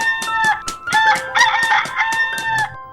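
Loud rooster crowing nearby, overlapping calls in a repeated cock-a-doodle-doo pattern with some clucking between them.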